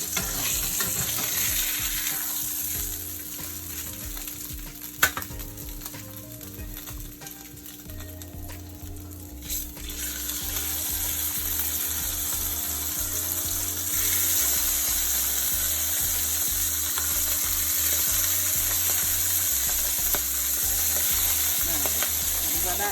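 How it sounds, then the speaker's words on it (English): Steady sizzling of salmon frying in a hot pan, crackling and hissing continuously with occasional clinks of utensils. "put the other rest of salmon in there so they can fry"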